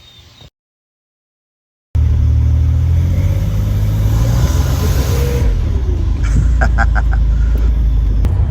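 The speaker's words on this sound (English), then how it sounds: "Even in low throttle conditions, I can hear the spool up even more." A new Grand National turbo engine runs at low throttle with a loud, close, continuous rumble. It follows a brief cut to silence, and a faint rising whine and a few light clicks sit over the deep drone.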